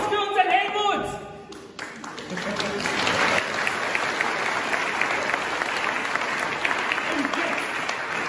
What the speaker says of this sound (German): Ein Applaus für unseren Helmut!